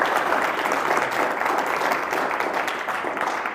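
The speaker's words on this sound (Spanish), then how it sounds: "le agradecemos con un fuerte aplauso a Pedro de Alba" Steady, fairly loud applause from an audience thanking Pedro de Alba at a Spanish-language history session on the Cristero War, a dense wash of clapping that holds for the whole stretch and fades slightly toward the end.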